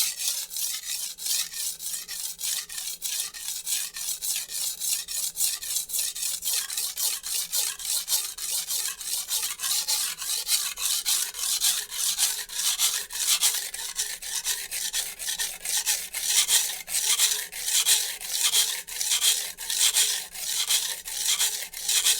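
A Wusthof chef knife is drawn across an ultra coarse Shapton Japanese whetstone in steady, rapid back-and-forth rasping strokes, close and continuous, with no voices.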